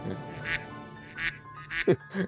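Duck quacks played as a victory sound effect from a soundboard: four short, nasal quacks spaced unevenly over about two seconds, clear and close, with no talking.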